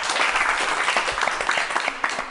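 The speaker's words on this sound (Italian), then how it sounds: "Applauso." Studio audience applause for the guests on a televised football talk show, a close, lively burst of many hands clapping over a couple of seconds.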